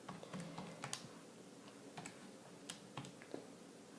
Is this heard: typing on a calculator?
yes